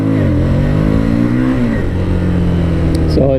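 A Harley-Davidson Street Rod 750 motorcycle revs loudly up close, the engine note climbing and then dropping as it accelerates and spins its rear tire, with a brief voice near the end.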